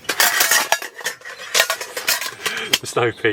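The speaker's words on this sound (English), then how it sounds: "And inside I have two pots, which are the Snow Peak 900 and the Snow Peak" Snow Peak 900 and 1200 titanium camping pots clank and clink as they are handled and nested, with a rapid series of close metallic knocks and scrapes and a voice talking over part of it.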